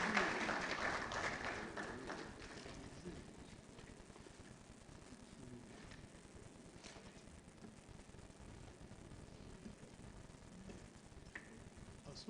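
A book launch audience applauds as Ambassador Branfo comes up, the clapping fullest at first and then settling into a steady, fainter patter across the room.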